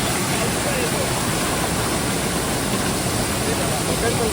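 A waterfall at Malgund in dense forest roars steadily and loudly as people bathe in the cold water beneath it, a continuous close wash of falling water with voices mixed in.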